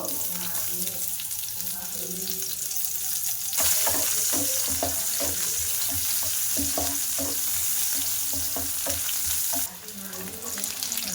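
Onions crackle and sizzle loudly in hot white oil, with repeated scraping knocks of a utensil stirring the pan, then the sizzle flares briefly near the end.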